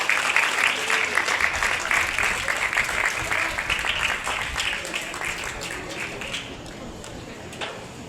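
An audience at a school anniversary function in Hyderabad gives sustained applause as a team of teachers collects mementos. The dense clapping from a large crowd is loud and continuous, then tapers off gradually.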